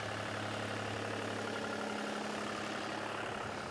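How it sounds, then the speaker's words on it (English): A tractor engine towing a heavy metal plate across a track surface drones steadily and evenly at a moderate distance, a continuous low rumble with no pauses. "The tractor tows a heavy metal plate behind it, which compresses the surface ready for watering."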